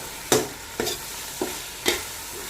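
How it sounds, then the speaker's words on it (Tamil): A spoon stirs yogurt into beef biryani masala in a pot, four distinct wet scraping strokes over a low steady simmer, close and clear with no talk. "ஃபுல்லாக ஊற்றி அதையும் ஊற்றிட்டு நல்லா கிளறிட்டு"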